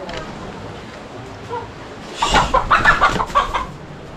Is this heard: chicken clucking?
yes